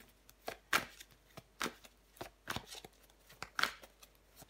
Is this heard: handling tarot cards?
yes